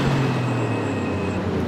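Steady, sustained engine drone of a Porsche 911 Carrera Cup race car in the RaceRoom racing game, a continuous loud hum with a faint high whine and no break over a couple of seconds.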